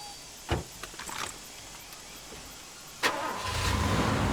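A car in the video game Far Cry 2, a couple of sharp clunks followed by the engine starting up and settling into a low steady rumble, no voices.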